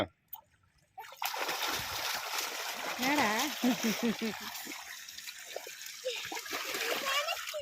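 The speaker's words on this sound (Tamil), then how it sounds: "நாங்கள் எல்லோருமே இப்போ சேர்ந்து ஜாலியாக குளிக்க போகிறோம்" Water splashing and sloshing steadily as people bathe together outdoors, a continuous wet churn close by, with voices talking and a child calling out over it.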